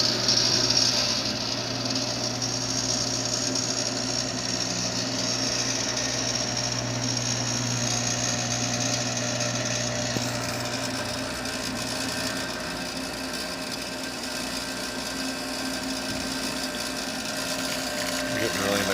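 A VBM espresso machine, freshly repaired with a replaced relay, pulls a test shot at about 9 bar: a steady, loud pump drone with a low hum runs throughout, easing slightly midway, with some talking over it.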